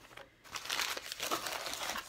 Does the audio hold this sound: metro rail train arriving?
no